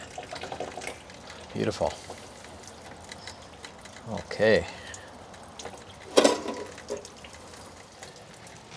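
Rainwater pours through a 3D-printed filter with fine mesh in short splashing bursts, some striking an inner lip, between quiet gaps while someone talks briefly.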